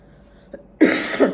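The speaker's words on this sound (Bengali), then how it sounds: "আমার ভীষণ কাশি হচ্ছে" A single sharp cough bursts out loudly after a faint click, with a second harsh cough following close behind, nearby and alone.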